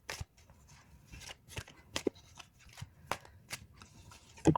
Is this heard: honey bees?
no